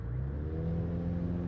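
A light aircraft engine at full throttle for takeoff in a flight simulator, a steady droning hum with a buzzy low rumble, held evenly throughout the short stretch with no talking.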